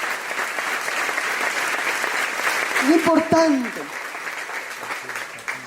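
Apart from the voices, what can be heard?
congregation applause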